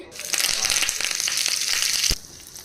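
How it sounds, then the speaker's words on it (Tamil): Mustard seeds, cumin, curry leaves and dried red chili crackle and spit in hot oil as a tempering for ridge gourd kootu, giving a brief, close, bright sizzle that cuts off abruptly. "கடுகு, கொஞ்சம் சீரகம், கருவேப்பிலை, காஞ்ச மிளகாய் போட்டு இப்போ தாளிச்சிட்டேன்"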